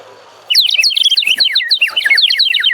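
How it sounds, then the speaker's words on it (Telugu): A clay bird whistle filled with water, blown up close, sends out a loud, rapid, warbling trill of bird-like chirps that starts abruptly and continues without a break. "ఇది వాటర్ వేసినాక సో బర్డ్ సౌండ్ వస్తుంది వాటర్ వేసి."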